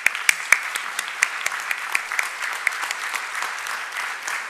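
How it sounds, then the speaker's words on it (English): Business event audience applauds after a speaker's introduction, crisp distinct claps close by at first, thickening into steady continuous clapping that holds to the end. "Please give him a big round of applause."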